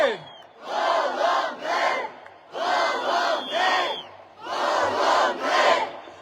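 A crowd at a Georgian political rally, gathered for a statement by parents of prisoners of conscience, shouts a loud unison chant three times in a steady rhythm, each burst of massed voices separated by a brief pause.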